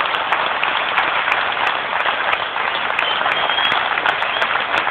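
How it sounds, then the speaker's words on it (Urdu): An audience at a CAA Action Committee gathering gives steady, continuous applause. The clapping is dense and even throughout, with no voices rising above it. "ایک دفعہ پھر تالیاں کے لیے۔"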